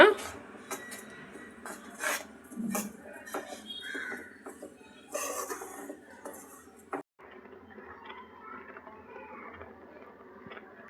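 A spoon stirs ground flaxseed into a laddu mixture in a pan, giving quiet, irregular scraping and tapping strokes up close, with some talk alongside.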